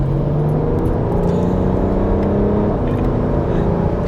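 A tuned Stage 2+ BMW E91 335d diesel estate of about 400 bhp pulls hard, heard from inside the car as a loud, continuous engine drone whose pitch climbs and drops with gear changes.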